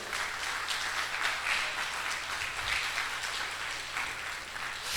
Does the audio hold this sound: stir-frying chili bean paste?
no